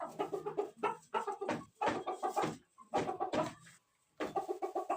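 Chickens clucking in repeated bursts of short calls, close by, with a brief quiet gap before the clucking resumes.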